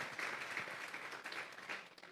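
A church congregation gives an offering of palms to God during a sermon, a brief, faint round of steady applause without speech over it.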